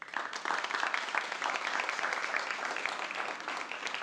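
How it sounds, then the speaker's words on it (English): A crowd at a physical therapy white coat ceremony gives a continuous round of applause for families, friends, faculty and staff, dense clapping steady throughout at moderate distance. "how about a round of applause for your families, friends, faculty, staff, who have all made it possible for you to be here today"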